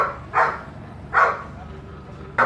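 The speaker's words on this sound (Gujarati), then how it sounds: "કૂતરો ભાઈ સરસ મસ્ત કૂતરો છે ભાઈ" A dog at a roadside snack stop on the road to Diu gives three separate barks about a second apart, fairly close and loud over a low background murmur.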